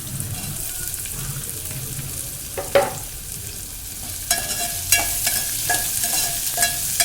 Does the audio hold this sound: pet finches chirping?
no